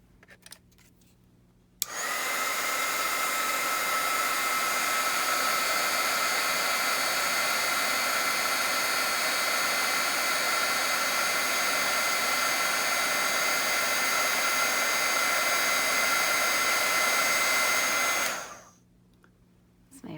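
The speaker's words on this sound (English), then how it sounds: "a little bit of heat gun noise here" A heat gun blows with a steady, loud, hissing whoosh for about sixteen seconds while melting material on steampunk specimen cards, starting and stopping abruptly.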